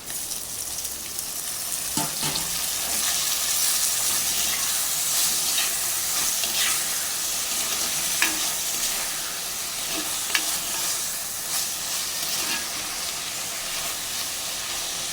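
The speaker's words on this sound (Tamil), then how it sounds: "தக்காளியும் வதங்கட்டுங்க" Onions and tomatoes sautéing in a pan, a steady close sizzle and hiss with occasional soft stirring scrapes running throughout; no talking.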